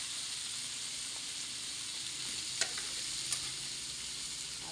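Vegetables sizzle in a pan under a constant dense hiss, with a couple of brief sharp clicks and scrapes of stirring, close and steady, with no speech.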